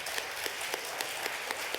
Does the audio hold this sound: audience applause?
yes